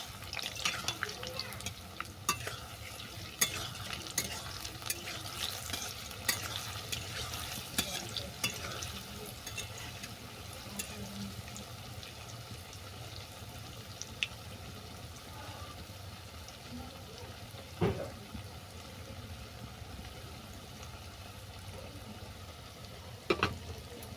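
Oats tal furuli, soft sweet fritters, fry in a pan with a low, steady bubbling sizzle, faint and close, with occasional clicks and a brief clatter as the pieces are turned.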